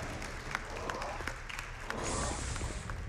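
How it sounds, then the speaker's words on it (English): Faint scattered clapping, then a brief swell of crowd applause at a live speedrun marathon event for Star Wars Jedi Knight II: Jedi Outcast, heard at a distance with background hall noise. "I'm sorry, I should have warned you not to clap"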